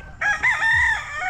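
A rooster crows loudly and close by, one long drawn-out call with a wavering pitch and clucking chickens faintly beneath it.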